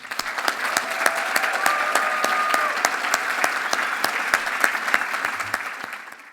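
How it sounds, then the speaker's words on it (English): A large audience applauds the winners and finalists at an environment awards ceremony in South Australia, with a sustained, even round of clapping that carries on steadily. "And another huge round of applause for all the winners and all the finalists."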